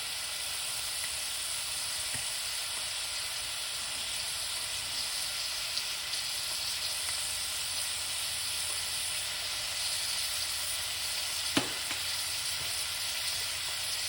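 Vegetables stir-fried in a hot pan give off a steady, dense sizzle and hiss throughout, with a couple of faint clinks of the utensil against the pan.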